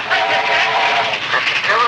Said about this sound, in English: Stop train about to come by.